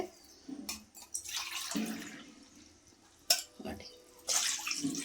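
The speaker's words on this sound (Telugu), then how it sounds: "నేనైతే 2 గ్లాసులు వాటర్ అయితే పోసుకుంటున్నానండి" Two glasses of water splash and pour into a metal pan in short bursts, quiet and close, with small clinks between pours.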